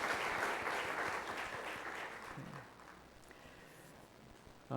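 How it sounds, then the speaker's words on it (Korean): A church congregation applauding to encourage the children, dense warm clapping from a large room that fades and thins out over several seconds, ending with a brief sound at the very end. "우리 아이들과 함께 우리 격려의 박수 한번 또 하겠습니다."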